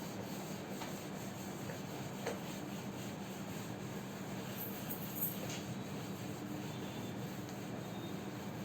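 Chalk or marker writing being rubbed off a classroom board, a steady soft scrubbing texture over a constant room hum, moderately quiet with no talk.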